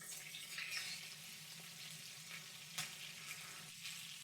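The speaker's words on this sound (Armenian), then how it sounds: "Տապակում ենք խորովածները բոլոր կողմերից։" Pork satay skewers, Vietnamese style, frying in a hot pan give off a steady soft sizzle with a few brief clicks and clatters, fairly faint and close, with no talk.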